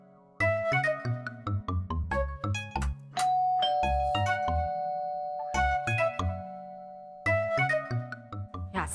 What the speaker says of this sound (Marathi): इतक्यांदा दाराची घंटी वाजवत आहे